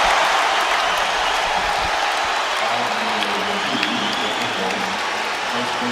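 An arena crowd roars loudly and steadily throughout a Lakers basketball game as Kobe heads to the line with a chance at 60 points, the dense cheering swelling with shouts and whistles across the whole stretch.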